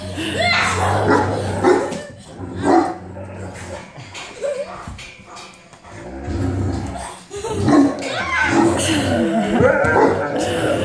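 A dog barks and yips in short bursts, with some whimpering, mixed with people talking nearby.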